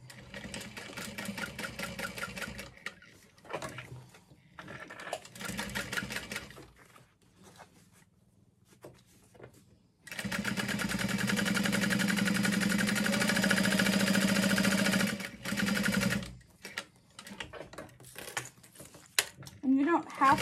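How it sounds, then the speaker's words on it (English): A sewing machine stitches across the sides of a fabric panel for a handbag, giving a steady whirring run of about five seconds with shorter bursts and handling noise before and after it. "just sew across all four sides of this panel"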